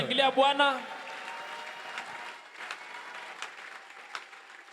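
Congregation in a church service bursting into applause and cheering, starting with a loud voice over the clapping, then steady dense clapping that carries on at a moderate level with scattered louder claps.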